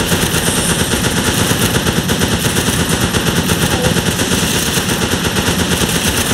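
Rapid, continuous machine-gun fire rattles loud and close in the World War II shooter game Running with Rifles: The Pacific, a dense unbroken burst of shots lasting the whole stretch.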